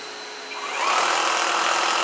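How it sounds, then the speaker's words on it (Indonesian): A cordless rotary hammer running on a 21700 battery pack starts up and rises in pitch into a steady, loud motor whine that holds to the end. "Kita nyalakan rotary hammer."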